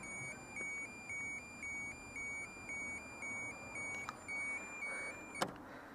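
Peugeot 309 lights-left-on warning buzzer beeping in a steady repeating rhythm of evenly spaced electronic tones, clear over a low background hum, with a brief click near the end.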